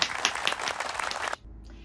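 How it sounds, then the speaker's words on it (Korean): A round of applause fills the first stretch, a dense crowd clapping at moderate volume, then cuts off abruptly into near silence for the final half second. "박수 한번 주세요"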